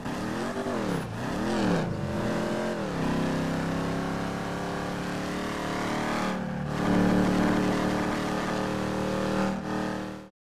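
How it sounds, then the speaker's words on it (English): The Dominator car in GTA Online runs at partial throttle, its engine droning loudly and rising and falling in pitch with a few brief revs. No one talks. "it has a weird factor where when you half throttle the car is so loud"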